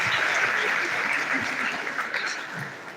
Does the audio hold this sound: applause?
yes